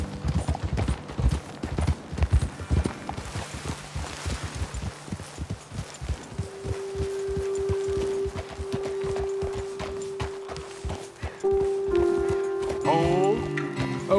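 Horses trot with steady clip-clop hoofbeats in Red Dead Redemption 2, loud and close at first, then easing under a sustained tonal drone and scattered game effects toward the end.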